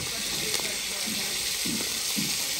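Onions dropping into a hot frying pan for a Creole spiny lobster sauce, setting off a steady broadband sizzle with a few soft scraping bursts.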